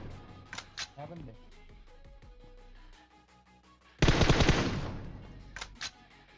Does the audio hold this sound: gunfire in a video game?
yes